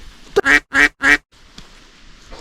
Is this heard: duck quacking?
yes